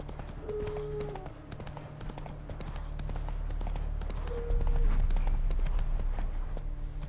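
Roach, a horse in The Witcher 3, gallops with steady rhythmic hoof clip-clops over a low rumbling ground, growing slightly louder midway, with brief faint tonal cues in the background.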